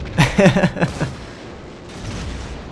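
Naval gunfire from a cruiser in World of Warships gameplay: a rapid cluster of heavy booming shots in the first second, followed by rumbling distant impacts, loud and close.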